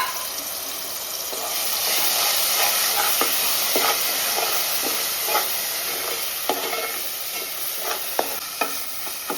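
Green masala paste fries and sizzles in hot oil, a steady bright hiss broken by scraping stirs of a spoon at irregular intervals, close up with no talking.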